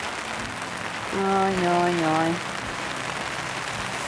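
Steady rain patters on a tent during a winter cycling trip in Iceland's Westfjords, a dense hiss throughout, while a voice briefly speaks in the middle.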